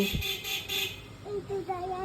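A car horn toots a few short times at moderate distance, with faint street and engine noise and a brief voice behind it.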